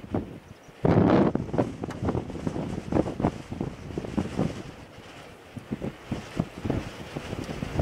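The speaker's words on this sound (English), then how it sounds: "It is windy here and cold." Cold wind gusting across an open outdoor birding spot, with a strong blast of microphone buffeting early on and continuing rumbling gusts throughout, alone with no talking.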